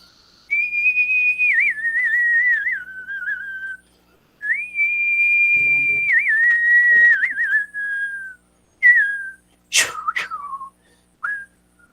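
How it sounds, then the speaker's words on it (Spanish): A person whistles a special Andean whistle, long sustained high tones that waver and slide downward in several phrases, loud and close, ending in short sharp bursts with brief pauses between. "yo tengo un silbido muy especial de repente con los apus"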